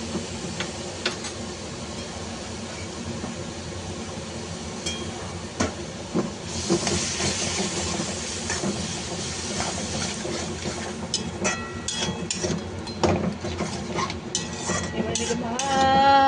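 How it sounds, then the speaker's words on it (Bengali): Ginger paste, spices and yogurt fry in a pan, giving a continuous hiss broken by scattered clinks and scrapes of a stirring spoon against the metal. "এবারে এটাকে ভালো করে কষাবো, যতক্ষণ না তেল ওপরে ভেসে আসবে ততক্ষণ এটাকে কষাতে থাকবো"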